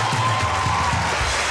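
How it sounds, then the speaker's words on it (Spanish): A talk-show studio audience cheers and claps for guest Sergio Fajardo, a short, full burst of crowd applause with whoops layered on top. "Un aplauso para él."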